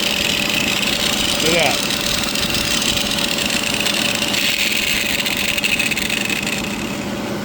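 A welder generator engine runs steadily at a slightly high idle, a continuous close mid-pitched drone that holds level throughout while someone speaks briefly over it.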